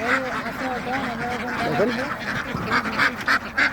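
Ducks quack and honk repeatedly at their farm housing in a wetland area, close and overlapping, while someone talks over them.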